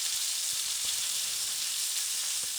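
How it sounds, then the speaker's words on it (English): Chicken skin sizzles and fries in a pan, browning as it cooks: a steady, close, dense hiss with a few faint pops and light stirring underneath, continuous throughout with no talking. "Sizzling, getting some browning on that skin"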